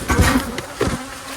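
Honeybees buzz close by at a beehive after a bear attack, several overlapping drones that swell and fade over a second and a half.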